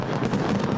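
New Year fireworks detonating over the Sydney Harbour Bridge, a dense loud roar of overlapping crackles and bangs with no pauses.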